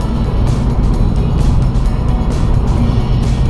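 A remapped 2015 Seat Leon FR 2.0 TDI with 201 bhp cruises in sixth gear at about 58 mph, filling the cabin with a steady, loud, low engine and road drone.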